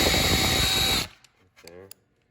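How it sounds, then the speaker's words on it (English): A power drill whines loudly for about a second and then winds down, followed by a few faint clicks and a brief voice. "I'm just going to drill a hole."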